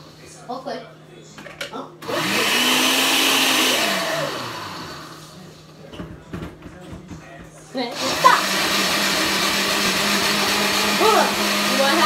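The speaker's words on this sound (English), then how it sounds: "So now she's putting the ice into the blender." A blender crushes ice for unicorn frappes in two loud whirring bursts, its motor pitch rising and falling as the ice breaks up, with people talking in the pauses between runs.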